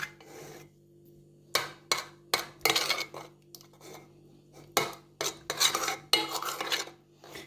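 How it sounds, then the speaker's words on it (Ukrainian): A spoon clinks and scrapes against a bowl as yeast is stirred into water for yeast-dough pancake batter, coming in short bursts with quiet gaps between them. A low steady hum runs underneath and there is no talk. "Розводимо дріжджі, щоб дріжджі гарненько тут у вас розійшлися."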